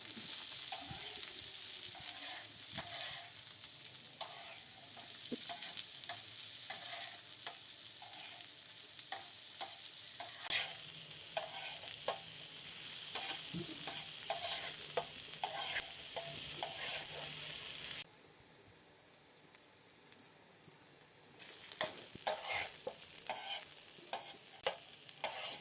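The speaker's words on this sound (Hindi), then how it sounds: "प्याज को अच्छी तरह से फ्राई करेंगे।" Onions fry on a tawa in a soft, steady sizzle, punctuated by frequent small scrapes and taps of a spatula stirring them, fairly faint and with no speech.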